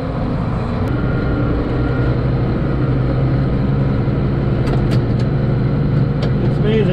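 A 40-year-old 86 series tractor engine runs with a steady, loud low drone throughout, heard from inside the cab.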